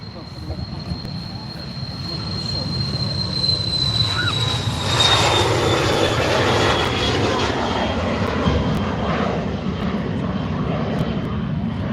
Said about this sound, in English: There we go, BizJet on the roll.